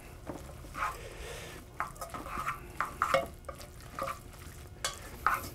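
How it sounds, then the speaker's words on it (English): Spoon stirring a lumpy milk sauce with noodles in a pot, a homemade Noodles Romanoff, giving soft repeated scraping and sloshing scrapes at close range with no talk. "And then finish stirring this up because there are some lumps in there."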